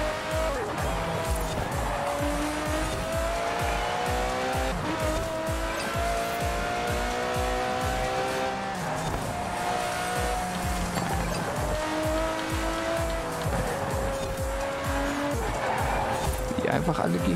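An AM Vulcan at full throttle in Forza Horizon 4: a loud, high engine note climbing through the gears with repeated shifts and some tire squeal, while someone talks over it throughout.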